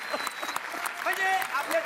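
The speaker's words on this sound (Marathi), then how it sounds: "जोरात त्यांना टाळ्या वाजून त्यांचं स्वागत करूया आपण" An audience at a Marathi comedy show applauds to welcome a guest, the clapping fairly soft and running beneath a person speaking.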